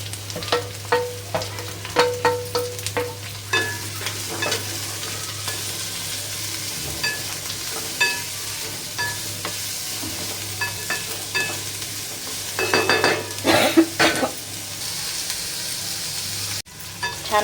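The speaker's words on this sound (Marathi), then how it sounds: "आता इथे कांदा टाकूया." Onion being stirred in hot oil in a pan for a traditional shepu-methi mixed vegetable dish, with steady sizzling broken by repeated scraping and clattering strokes of a spoon, alone without talk.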